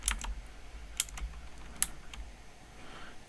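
Typing on a computer keyboard, a few quick sharp key clicks scattered over a few seconds, close and fairly quiet against a low hum.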